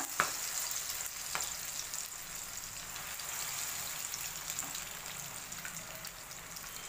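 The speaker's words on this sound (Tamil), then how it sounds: "இப்போது நம்ம வந்து ஃப்ரை பண்ணி திருப்பி எடுத்துருவோம்" Masala-coated fish fries in hot oil with a steady, even sizzle and crackle that carries on for the whole stretch, with a couple of sharp pops near the start and no talking.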